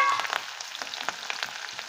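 Chopped curry leaves and green chillies crackle in hot oil with asafoetida, a close, steady sizzle dotted with quick sharp pops throughout.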